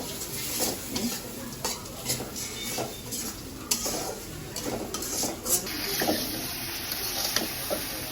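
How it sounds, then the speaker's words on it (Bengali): Coriander powder and other spices are fried together with tomato in a pan while being stirred, giving a continuous sizzle broken by regular scraping strokes, close up and fairly loud. "যে মশলাটার সাথে সাথে আমি যে এটাও দিয়ে দিচ্ছি টমেটো এখন হয় নাই এটাও আমি একসাথে কষাই নিতেছি"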